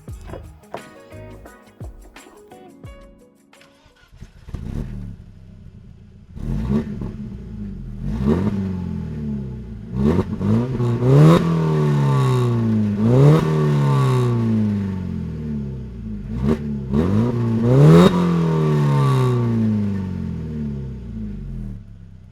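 A BMW E46 engine revs repeatedly nearby, each burst climbing sharply then dropping back to idle, with a deep rumbling exhaust between throttle blips.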